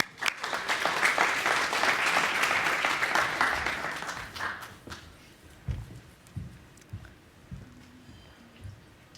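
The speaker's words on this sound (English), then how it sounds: "So let's give them a round of applause." An audience at a panel session on infrastructure applauds, dense clapping for about five seconds that then thins into a few scattered claps and faint room noise.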